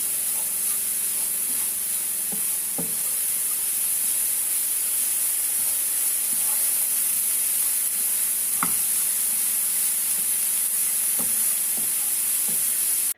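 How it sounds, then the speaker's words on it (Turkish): Black cabbage sautéing in oil in a pan gives a steady, close frying sizzle and hiss, with a few soft stirring clicks and scrapes spaced through it and no voices. "Bu sırada kara lahanamı kavuracağım."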